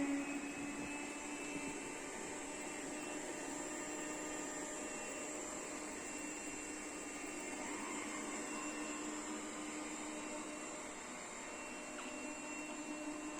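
Puppyoo R30 robot vacuum cleaner running on high-pile carpet, a steady close motor whine with a constant suction hum and no pauses.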